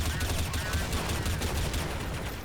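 Rapid, dense gunfire crackles through a round of Counter-Strike: Source, a continuous burst of shots filling the moment at moderate loudness.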